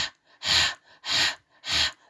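A voice imitates tired panting: three heavy, breathy puffs in a steady rhythm, close and fairly loud, with short quiet gaps between them.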